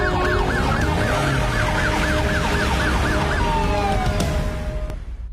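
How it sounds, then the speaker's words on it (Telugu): Car siren wails loudly in a repeating rising and falling pattern over steady road traffic noise, close by and continuous before it fades slightly at the end. "సార్ కార్ లో సైరన్ పెట్టుకుని శక్తిమాన్ లా వెళ్ళాడు"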